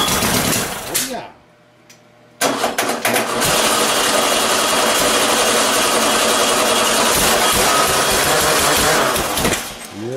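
A blown 4.3 engine runs close and loud, giving a fast, rattling, ticking clatter that briefly drops out, then returns and holds steady with a harsh mechanical chatter; voices are heard nearby.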